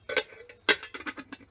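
An old, decades-used aluminium cook pot clinks and taps as it is handled, a few quick, light metallic knocks close by.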